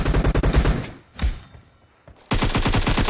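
Rapid bursts of automatic gunfire in the mobile battle game PUBG Mobile during a deathmatch, loud and close, a dense volley, a brief lull with a single thud, then another sustained burst of shots.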